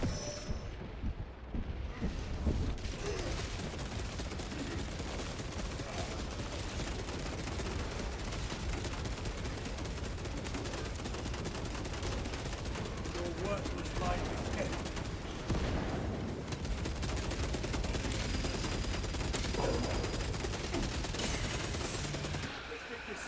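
Heavy bolter fire in the Warhammer 40k game Space Marine 2 pounds out in a dense, sustained barrage with booming blasts mixed in, loud and continuous, while voices speak over the battle.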